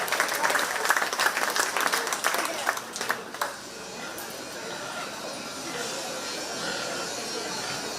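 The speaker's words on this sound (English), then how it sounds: "Give all three of those young ladies a huge round of applause and say amen." A crowd at a county fair 4-H swine show breaks into loud, dense clapping for about three seconds, then the applause fades into a low murmur of crowd noise.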